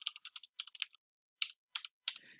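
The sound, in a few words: typing text on a computer keyboard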